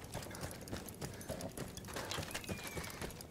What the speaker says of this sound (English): there's a fucking horse riding around